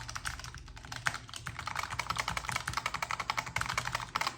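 Buttons on a Haute42 Cosmox arcade controller are pressed in quick succession, a close, crisp run of clicky taps in an uneven rhythm, with no voices.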